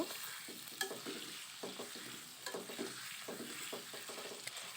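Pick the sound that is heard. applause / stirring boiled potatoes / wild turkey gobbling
stirring boiled potatoes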